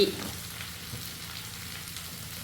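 Potatoes roasting in a pan on a stove, a steady close sizzle and crackle with a soft stir near the start, continuing without talk.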